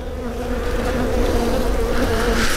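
Honey bees buzz densely and close during a UK nucleus colony's first hive inspection, a loud continuous swarm drone with no voices over it.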